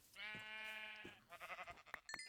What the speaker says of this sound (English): Sheep, where are you? There you are.